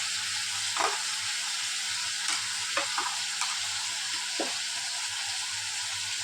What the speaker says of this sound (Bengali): খালি একটু নাড়াচাড়া করবো।